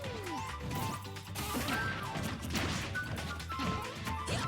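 Up smash attacks landing in a Super Smash Bros. Ultimate match, with Mario fighting R.O.B., repeated loud crashing hits and whooshes over busy game sounds and music, dense and close.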